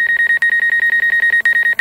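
Rapid, evenly spaced electronic beeps from a DJI Mavic Air 2 drone's proximity warning, loud and close, repeating steadily about eight times per second with a couple of brief gaps.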